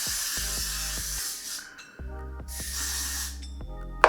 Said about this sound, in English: I'm gonna go ahead and put one more layer of spritz on there